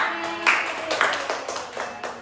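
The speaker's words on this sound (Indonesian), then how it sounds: "Tepuk tangan untuk kita semua." A small group in a group counseling session claps hands together for about two seconds, a short burst of close, bright claps with a few sharper accents, fading out at the end.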